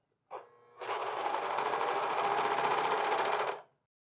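A sewing machine stitching a men's pants welt pocket, starting with a short burst, then running in one steady, close buzzing stretch of about three seconds before stopping.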